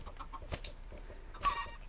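Chickens clucking in the video game Minecraft, a few soft, short clucks spread across a low, noisy background, fairly quiet and with no talk.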